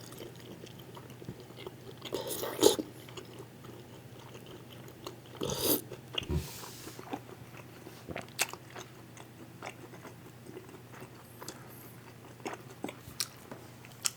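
Chewing on a bite of cheesy kimchi sweet and sour pork, with quiet close mouth sounds, a few crunchy bites and soft wet chewing spread irregularly across a quiet background, no talking.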